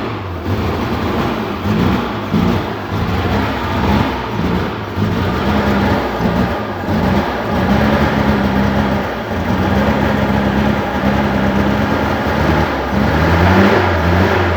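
Suzuki Carry engine running on LPG after its petrol runs out, a steady loud idle with a rhythmic low thrum and slight periodic surges, close by and continuous.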